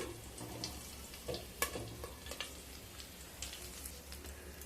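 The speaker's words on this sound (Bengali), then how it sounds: "কারি পাতা দিলে তেল ছিটকোয়" Black mustard seeds and curry leaves sizzling in hot oil under a partly covered pan, a soft continuous crackle with scattered pops and spits, faint and close with no voices.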